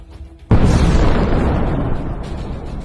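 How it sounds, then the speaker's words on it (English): A hit on a Russian tank in combat sets off a sudden loud blast, followed by a heavy, rumbling roar that slowly fades over the next few seconds. "The hit is enough to destroy the enemy tank."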